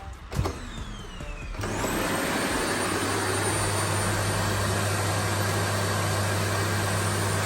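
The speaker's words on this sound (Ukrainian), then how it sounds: "вмикаємо пилосос" A click, then a vacuum cleaner powered by a FOSSIBOT F2400 LiFePO4 power station whirs up and runs loudly and steadily with a constant high whine and low hum.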